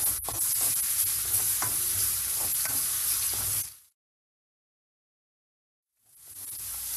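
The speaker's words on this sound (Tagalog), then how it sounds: "Gigisa lang natin ngayon yung ating bawang." Garlic sautés in oil in a pan, a close, steady sizzle broken by soft stirring scrapes for several seconds, then a sudden silence before the frying resumes.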